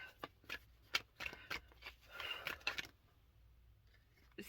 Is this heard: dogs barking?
no